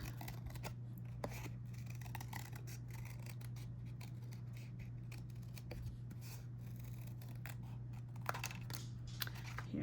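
Scissors snip through thin mulberry paper at a craft table, a close, quiet run of repeated crisp cuts and rustles spread across the stretch with brief pauses between.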